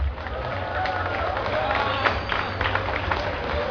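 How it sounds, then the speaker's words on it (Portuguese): A crowd at a Brazilian stand-up comedy show applauds in a dense, steady wash of clapping that holds for several seconds, with voices murmuring underneath. "Essas palmas significam o quê?"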